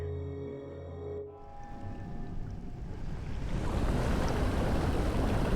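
Water rises in the video game Deep Black Reloaded: a soft tonal music bed cuts out and gives way to a swelling, rushing wash of water that grows steadily louder and fuller, with no speech.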